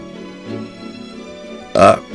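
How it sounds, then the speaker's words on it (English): A single loud, close burp erupts abruptly near the end, after a stretch of quiet background sound. "it's the first burp I've gotten so far, 2025, guys"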